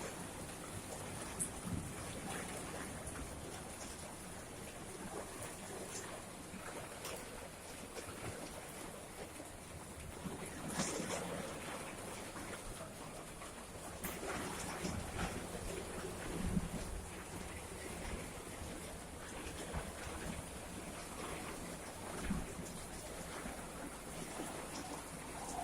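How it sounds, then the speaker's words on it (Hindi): Heavy rain pours steadily onto a garden in a monsoon downpour, a dense, even hiss of drops that stays constant for the whole stretch with no voices. "कितनी बारिश हो रही है।"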